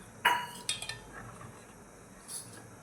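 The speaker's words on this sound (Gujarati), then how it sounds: "જો આ રીતે હલાવતા રહેવાનું કઢીને." A spoon stirs kadhi in a metal pot, giving a few sharp, quiet clinks against the rim followed by softer scraping in an otherwise calm kitchen.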